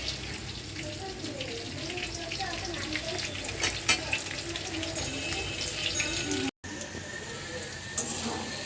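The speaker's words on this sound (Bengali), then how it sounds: "আর এই যে এখন কিছু ভাজতেছি" Food frying in a pan while an iftar meal is prepared gives a steady, close sizzle and crackle throughout, broken by one brief cut near the end.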